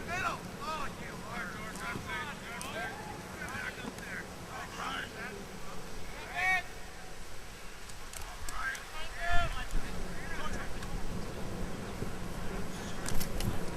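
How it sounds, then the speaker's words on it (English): Wind gusting across an outdoor lacrosse field, a steady buffeting rumble with gusts swelling louder near the end, under ongoing talk and crowd noise. "That wind really picking up too"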